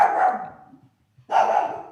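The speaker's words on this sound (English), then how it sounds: "That's the dog barking." A dog barks twice outdoors, each bark loud and close, separated by a short pause of near silence.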